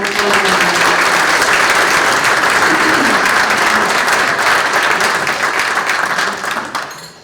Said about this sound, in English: Let's give them all a warm applause.